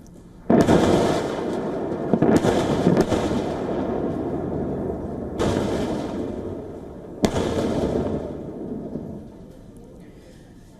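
Deep booming blasts from Israeli air strikes on Hezbollah launcher sites in southern Lebanon, four loud explosions whose rumble lingers and overlaps between impacts, with a low background roar throughout.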